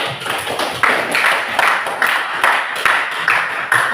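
A group claps in a rhythmic pattern, with bursts of hand claps repeating at a steady pulse roughly every half second. The sound is fairly close and moderately loud.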